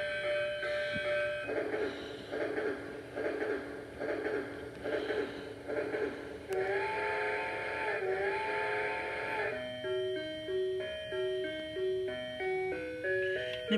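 A toy holiday steam locomotive plays electronic sound effects, including a whistle, followed by a tinny, beeping holiday melody in close, repeated phrases.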